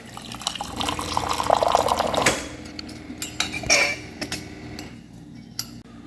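Hot water dispensing from an Avalon bottom-loading water cooler, with a running liquid stream mixed with clinks of a cup or dish, then drips and small knocks as the flow stops.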